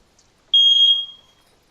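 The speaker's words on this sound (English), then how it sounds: "Sound like a smoke detector from someone." A smoke detector gives a single loud, high-pitched electronic chirp of about half a second, fading out against near silence.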